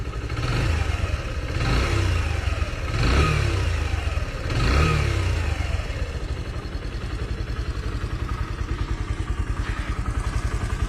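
A Suzuki GSX125 motorcycle's small 125cc OHC engine revving up in several repeated bursts, then settling into a steady, throbbing idle close by.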